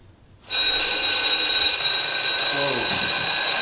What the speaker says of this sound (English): So we bought 200 alarm clocks